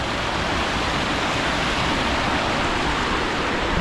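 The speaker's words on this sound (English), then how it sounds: "That's the river, Sulungai River, right there." The Sulungai River flowing steadily past cultivated village land, a constant broadband rush of water, close and loud, with no voices over it.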